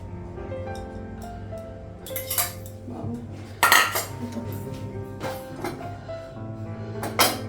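Metal utensils clink and scrape against a heated kadai as oil is added before making roti in a home kitchen, with sharp irregular clanks standing out over a steady background hum.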